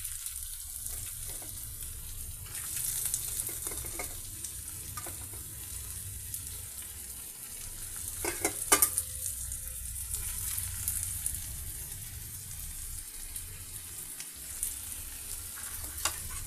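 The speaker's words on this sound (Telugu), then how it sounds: "ఈ పీసెస్ని ఈ విధంగా ఫ్రై చేద్దాం." Pieces of boiled egg fry in a spice paste over a low flame, with a constant crackling sizzle broken by occasional scraping stirs and light knocks.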